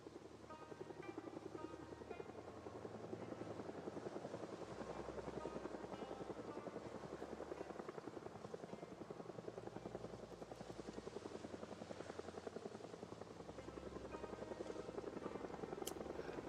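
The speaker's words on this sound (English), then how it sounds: "It's the helicopter that hovers around your house" A helicopter hovers around a player's base in a zombie survival video game, giving a faint, steady rotor chop that pulses continuously beneath a low background drone.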